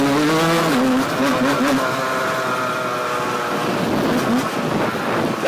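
A Yamaha DT 75 motorcycle engine revs and accelerates close by, a loud resonant whine rising and falling in pitch, with people talking over it.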